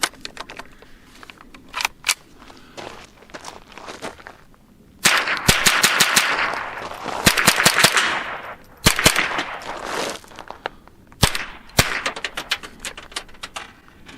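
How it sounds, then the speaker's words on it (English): Unsuppressed .22 pistol shots firing CCI rimfire ammunition ring out loud and close, sharp cracks in scattered singles and fast clusters with quiet gaps between, and no talking. "I'm going to put a few rounds of the CCI ammo through this without the suppressor."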